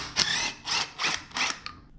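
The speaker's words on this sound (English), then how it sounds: "Now I'm going to pull off the intake manifold base plate." Metallic clicking and scraping comes in four short bursts as a Banks twin ram intake manifold base plate is worked off a 12-valve truck engine; up close, then trailing off.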